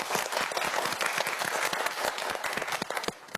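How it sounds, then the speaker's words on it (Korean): Studio audience at a Korean TV quiz show applauds in a steady, dense burst of clapping throughout, fairly close and even, with no talk over it. "저희 박수 한번 보내주시죠"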